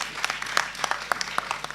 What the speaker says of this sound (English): you all need to give Terry another big round of applause